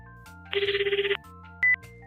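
Telephone ringing during a call: a loud, close electronic ring trill lasting about half a second, a short high beep after it, and a steady low hum underneath.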